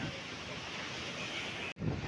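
Sea waves roll onto the shore at Dwarka as a constant, even wash of surf mixed with wind rumble on the microphone. A brief dropout breaks it near the end.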